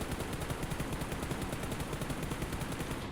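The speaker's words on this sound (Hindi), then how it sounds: "ये चल भी रहा हूँ और फायर भी कर रहा हूँ।" Rapid automatic gunfire in the PUBG Mobile video game while the player moves, a dense, loud, evenly spaced stream of shots running without pause.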